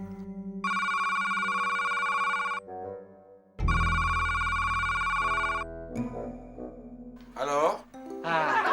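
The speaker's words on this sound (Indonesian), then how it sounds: "Papi mau telepon" A telephone rings in two long, loud electronic bursts in an Indonesian comedy scene, followed by a short jumble of other sounds and voices.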